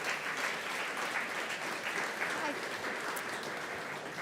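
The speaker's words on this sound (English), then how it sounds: "Give her a round of applause, please." A steady, dense burst of audience applause at a Stop Food Waste Day event as a guest returns to the stage, loud and sustained throughout with no pause.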